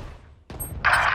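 Gunfire and an explosion in the tactical shooter Valorant, a short, loud burst of shots followed by a bright crackling blast, all within about a second.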